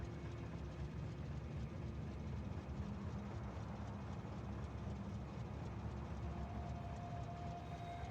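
A cargo train rolls along a rail line in the Factorio video game, a steady, faint rumbling drone with a thin tone rising late, and no talk over it.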